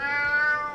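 A single drawn-out cat meow from the Alice: Madness Returns video game, clear and fairly close, with no other sounds around it.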